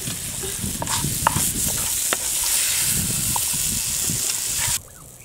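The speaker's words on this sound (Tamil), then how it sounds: "நல்லா இந்த மாதிரி வதக்கிக்கணும்." Ingredients for a lily tuber dosa batter sautéing in a pan, a steady sizzle with scattered stirring scrapes and clinks, close and moderately loud, cutting off abruptly near the end.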